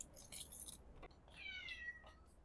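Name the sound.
pet cat meowing for attention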